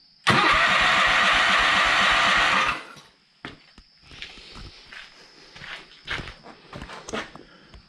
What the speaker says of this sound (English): So this engine's very, very healthy.